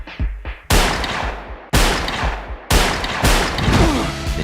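Gunfire in a gunfight, with three loud sharp blasts about a second apart, each trailing into rattling echoes and scattered follow-up shots, close and dominant.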